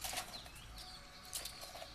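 Pigeons in breeding cages flap their wings in a few quick, soft bursts over a faint background hiss, fairly quiet and close.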